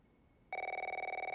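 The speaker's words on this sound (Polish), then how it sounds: "O, dzwoni telefon." Telephone in The Last of Us Part I starts ringing after a brief quiet moment, a rapid trilling electronic bell pulsing steadily and clearly up close.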